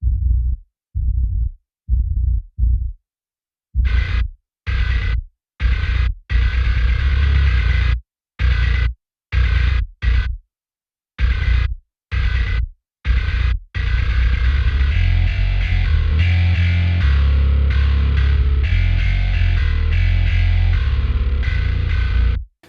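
Modern metal mix with the bass low end boosted by a mixing plugin: loud, heavy chugging bursts cut by abrupt silences, then a sustained wall of dense distorted playing, with no talking.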